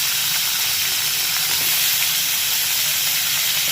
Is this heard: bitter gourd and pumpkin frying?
yes